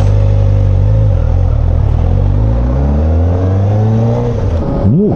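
Kawasaki ZX-4R SE motorcycle engine, still in its break-in period, running loud and close with pitch that drops, climbs steadily through the revs, then dips and rises again at the end.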